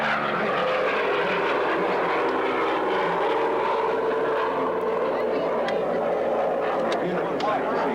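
A Lockheed P-38 warbird performs aerobatics at an airshow, its engines giving a continuous loud droning roar, with a voice speaking over it.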